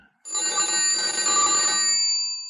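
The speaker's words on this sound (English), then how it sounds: "A telephone rang in the inspector's office at the yard." Old-style telephone bell ringing in an inspector's office at Scotland Yard, a radio drama sound effect: one sustained bright metallic ring lasting about two seconds, clear and alone.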